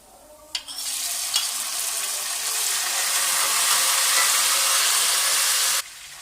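Two medium tomatoes hit hot oil with black pepper, setting off a loud, steady sizzle with a brief sharp splash at the start. The frying hiss rises and holds for several seconds, then cuts off abruptly.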